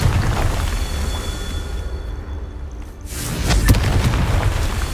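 A Confringo spell blast in Hogwarts Legacy, a loud, dense booming roar that fades into a brief lull, then erupts again with a sharp crackling burst and rumbling tail.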